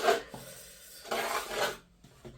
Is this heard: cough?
no